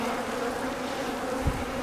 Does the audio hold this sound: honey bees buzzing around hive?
yes